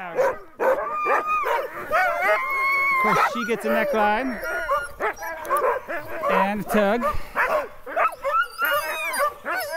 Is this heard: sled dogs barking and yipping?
yes